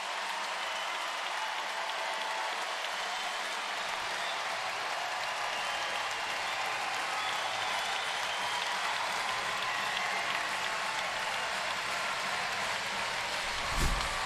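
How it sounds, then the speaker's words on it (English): Sustained applause and cheering fill the arena at a 2012 women's college volleyball match between Washington and USC, a dense, loud wash of crowd noise holding steady for the whole stretch. "An electric crowd in Washington."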